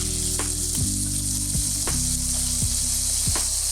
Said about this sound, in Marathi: ही गवारी चांगली या तेलामध्ये परतून घ्यायची।